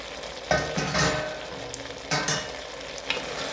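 Marinated beef sizzles in a pan for a Mongolian stir fry, with a steady hiss broken by several louder bursts as it is stirred and scraped.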